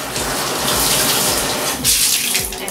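Water runs loudly and steadily from a tap over a shower cleaning tool as it is rinsed out in a bathroom shower, a continuous close gushing splash with slight shifts partway through.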